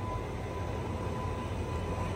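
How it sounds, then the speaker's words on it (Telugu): A steady rumbling roar of trains running side by side on parallel tracks near Secunderabad, continuous and close with no breaks, no voices. "సో రెండు ట్రైన్లు ప్యారలల్ రన్ అయితే అవుతున్నాయి."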